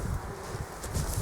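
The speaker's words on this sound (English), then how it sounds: "Absolute haven for bees." Bees buzz continuously outdoors among a mix of cornflowers, Californian poppies and other flowers on an allotment plot, a dense, rustling hum with no voices.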